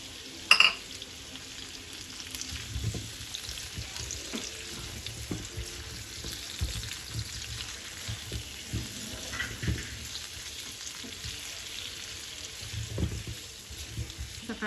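Potatoes hit a hot frying pan and sizzle steadily while being stirred, with soft scraping and occasional clatter against a low background, fairly close.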